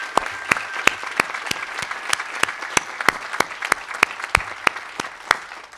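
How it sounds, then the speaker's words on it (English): Faculty and staff receive applause from an audience at a medical school awards ceremony, a broad wash of clapping punctuated by loud, evenly paced claps from someone nearby. "So if we could just give a round of applause to our faculty and our staff."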